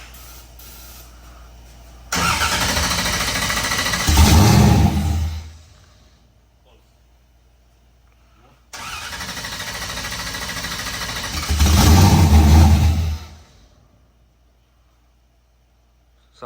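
Car engine fitted with a new 3-inch exhaust revving twice, each a loud deep roar that builds to a heavy rumbling peak and then drops back to a low idle, close by.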